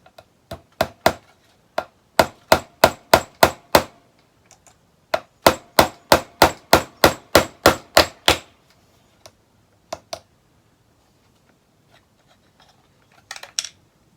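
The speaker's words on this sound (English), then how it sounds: "let me get my little hammer here" A small hammer taps in quick rhythmic bursts, two runs of sharp metallic strikes on nails while fretting a cigar box guitar, followed by a few scattered taps and quiet pauses.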